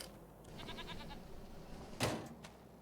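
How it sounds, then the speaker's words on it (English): Goats in the video game Farming Simulator 25, including baby goats, give a faint, wavering bleat followed by a brief louder thump, quiet and close with no talk. "Baby goats"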